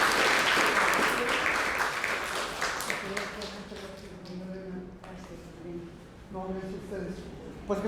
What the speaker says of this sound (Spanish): me quedo con su aplauso